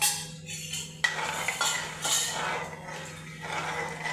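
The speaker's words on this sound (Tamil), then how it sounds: "கைவிடாமல் கிண்டிகிட்டே இருக்கணும்" A spoon scrapes and clinks steadily against a pan while beetroot jelly mixture thickened with cornflour is stirred on low heat. The sound is close and continuous over a low constant hum, with no talk.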